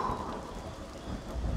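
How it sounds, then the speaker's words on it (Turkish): Pouring rain with thunder rolling through a storm over an open pasture where sheep are grazing in Turkey, a dense, continuous roar of rain with low rumbling underneath, steady throughout. "Arkadaşlar deli gibi yağmur yağıyor."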